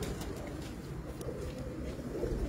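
Pigeons in a breeder's loft make a low, steady cooing murmur under a continuous rumble of background noise, close and fairly even in level, with no talking.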